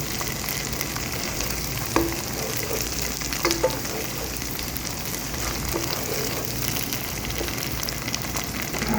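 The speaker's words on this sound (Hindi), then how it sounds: "पहले मैं यहाँ पर मैंने अदरक लहसुन शामिल कर दिया है" Ginger and garlic frying in a pan of oil for a dhaba-style yakhni pulao, a steady dense sizzle throughout with a few soft stirring clicks and no talking.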